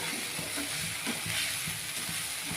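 Hilsa fish head mash frying and being stirred in a pan, a steady close sizzle with soft scraping strokes repeating every half second or so, no voices.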